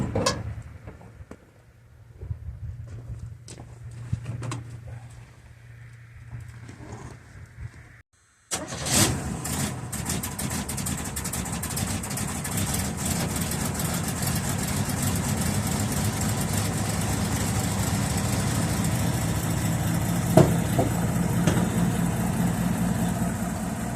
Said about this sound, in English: I'll give it 3 pumps to the gas pedal, and I bet it fires up.